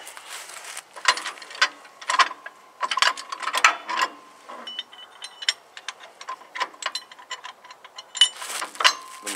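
Pins are pulled from the side links of a Kubota MX5100 tractor, producing quick bursts of metallic clinks and rattles that come and go close by, with no voices.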